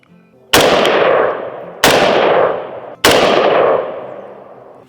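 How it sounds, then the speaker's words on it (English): Three loud, sharp cracks from an unsuppressed .556 rifle firing supersonic ammunition, spaced about a second apart, each ringing out and decaying into a long echoing tail. ".556 with regular ammo, which is supersonic, no suppressor."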